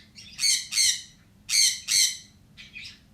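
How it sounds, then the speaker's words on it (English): A pet bird squawks loudly indoors in sharp paired bursts, two quick calls, a pause, two more, then a softer final pair, with no talking over it. "Excuse my bird in the background. She likes being loud"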